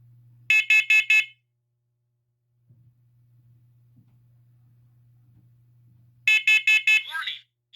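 During a test, a smoke alarm from a collection of alarms sounds a burst of four loud, piercing beeps, goes quiet over a faint hum, then repeats the four-beep pattern, ending with a brief electronic voice fragment.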